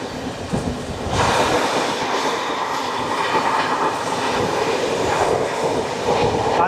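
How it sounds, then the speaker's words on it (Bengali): Kanchenjunga Express train passing, a loud steady rumble and rattle of carriages rolling by close at hand, building up after the first second and continuing throughout. "এবার আমাদের সঙ্গে দেখা হচ্ছে কাঞ্চনজঙ্ঘা এক্সপ্রেস।"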